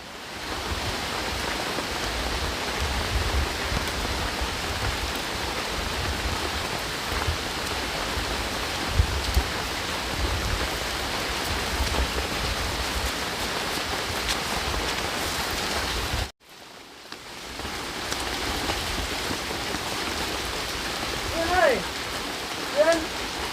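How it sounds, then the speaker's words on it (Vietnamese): Heavy rain pours down on surfaces in a steady, dense hiss with scattered drops, broken by a brief cut before the downpour resumes at the same strength. "Trời mưa quá còn ạ"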